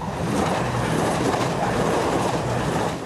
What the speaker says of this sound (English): Some of the trains come through here at 60 miles an hour.